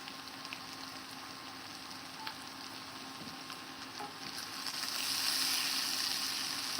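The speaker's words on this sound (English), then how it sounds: "give this a really nice stir" Cajun potatoes and sausage stirred in a breakfast skillet, with a steady close sizzle and soft scraping of the spoon that swells into louder frying near the end.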